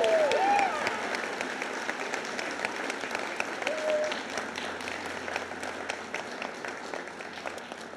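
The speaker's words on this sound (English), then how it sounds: "let's give them a big round of applause for their achievement" Audience applause at an eighth grade bridging ceremony, a steady wash of clapping that carries on for the whole stretch and slowly thins out, with faint voices mixed in.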